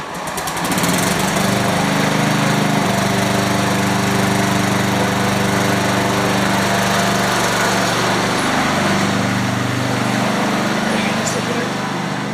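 A 125cc Apollo RFZ pit bike engine runs steadily throughout after a carburetor air/fuel screw fix, a loud continuous buzzing idle with a rising rev near the middle, close by, with voices talking faintly over it.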